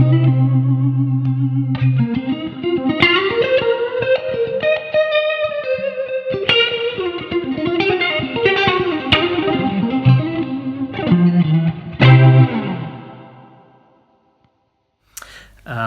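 An electric guitar runs through a rotary effect pedal imitating a Leslie speaker, playing swirling, warbling distorted notes and chords for about twelve seconds before ringing out into silence, with a short burst of sound at the end.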